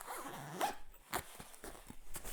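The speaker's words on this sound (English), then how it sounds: "you basically just close the zipper" A zipper closes on a sewn packing cube in several short, close rasping pulls separated by brief pauses.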